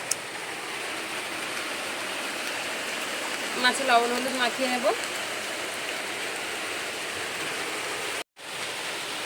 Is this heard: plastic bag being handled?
no